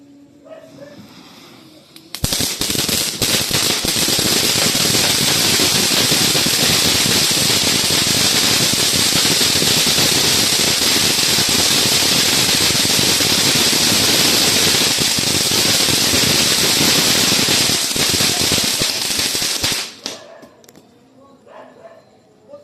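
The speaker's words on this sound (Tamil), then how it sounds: "இப்போ வெடிக்கிறது தான் ஃபெஸ்டிவல் கிராக்லிங்க" A Diwali crackling fountain firecracker erupts into a loud, sustained crackling hiss for about eighteen seconds, starting abruptly and then dying away into quieter background sound.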